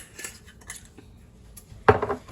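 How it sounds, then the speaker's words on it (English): Soup ingredients being stirred in a crockpot, a few soft clinks of a utensil followed by one sharper scrape and clatter against the pot, close and fairly quiet. "I'm gonna stir this all up so it's okay that it didn't go all over in there"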